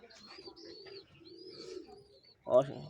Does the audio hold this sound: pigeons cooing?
yes